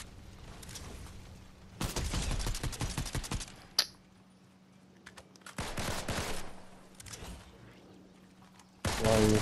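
Video game gunfire comes in bursts of rapid automatic shots, loud and close, separated by quieter gaps with a single sharp crack in between.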